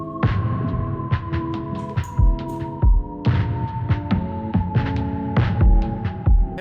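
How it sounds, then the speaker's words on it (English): Drums enter an underwater-themed electronic beat built around a bioluminescent anglerfish idea: punchy hits land in a steady, slightly uneven pattern beneath a sustained droning tone and layered synth notes. "And the drums come in."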